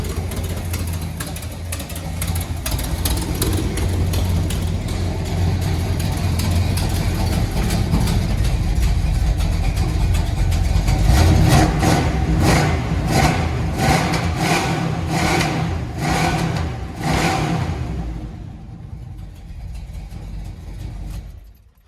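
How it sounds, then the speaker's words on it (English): A 1981 Oldsmobile Delta 88 engine runs loudly and steadily, then revs in a series of sharp bursts with popping backfire cracks before dropping back toward idle. "A little bit of backfiring going on the revs there."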